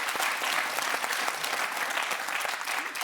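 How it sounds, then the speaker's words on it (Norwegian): A dense, even burst of studio audience applause on a Norwegian Eurovision preview show, many hands clapping at once in a loud, continuous wash with no pauses. "en liten applaus før vi skal videre"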